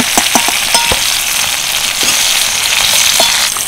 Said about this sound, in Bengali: উচ্ছে আর পেঁয়াজটা বেশ সময় দিয়ে ভালো করে ভেজে নিয়েছি